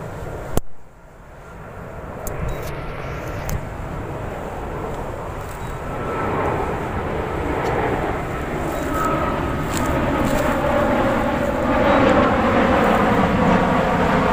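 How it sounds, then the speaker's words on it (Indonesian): A K911 FPV drone's propellers buzz in a broad whirring drone that grows steadily louder and closer as it comes down in strong wind. "Drone-nya turun."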